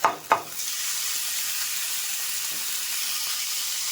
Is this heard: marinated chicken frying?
yes